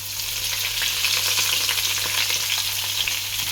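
Whole cumin and curry leaves sizzling in hot oil with ginger and garlic, for Rajasthani dal baati, giving a loud, steady, dense frying hiss that stays even throughout.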